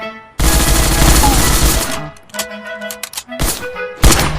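Rapid automatic gunfire from the mobile game Surviv.io, a loud dense burst followed by scattered shorter volleys and single shots, with no talk.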